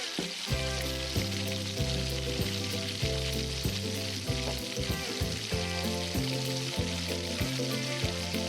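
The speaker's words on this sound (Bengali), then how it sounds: "যতক্ষণ ম্যারিনেশন হচ্ছে ততক্ষণ আমি আলুগুলো ভেজে নেব ভালোভাবে, একদম লাল লাল করে আলুগুলো ভেজে নেব" Potatoes fry in mustard oil in a wok, a loud, steady sizzle with crackling pops running throughout, backed by a rhythmic low musical beat and no talking.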